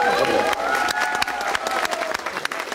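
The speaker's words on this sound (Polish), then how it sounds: "Zróbcie dobre brawa dla Gabrysi." Audience applause and cheering for a young female soloist at an outdoor family-day concert by a gospel choir, a dense steady crowd clapping with a tonal hum running underneath.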